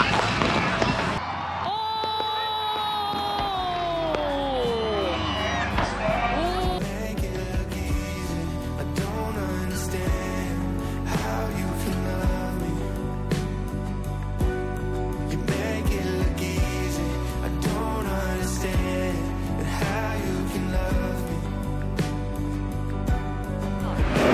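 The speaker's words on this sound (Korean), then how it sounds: "아직도 동네 곳곳에서 지금 폭죽이 터지고 있어요." Continuous crackling bursts and pops from fireworks fill the air, with whistling rockets early on and a dense, noisy outdoor backdrop.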